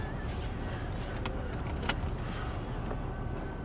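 A car with a newly fitted exhaust pulls away at a fairly faint level: a steady, low engine rumble with one brief sharp click partway through and no voices.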